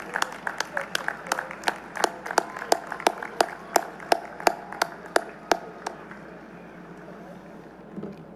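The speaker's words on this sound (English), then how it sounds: "Please join me in a round of applause to show our appreciation for everything that they've" A commencement audience claps at a university ceremony: a dense round of applause mixed with sharp individual claps, strongest at first, then thinning out and fading to quiet room tone after about six seconds.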